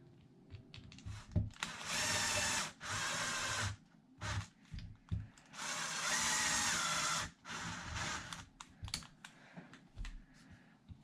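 A power driver runs panhead screws into a Tekno MT-410 RC truck, sounding two sustained whirring bursts of a few seconds each, with quieter clicks and handling noises between them and no talk.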